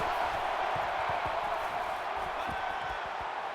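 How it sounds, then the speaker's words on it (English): Dense, steady stadium crowd roar at a college football playoff game between Ohio State and Oklahoma, a loud continuous wash of voices and cheering throughout. "The crowd really making it difficult."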